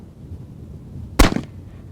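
.45 Colt revolver firing a single shot outdoors at a dirt berm, one sharp loud crack with a short rumbling tail over quiet background.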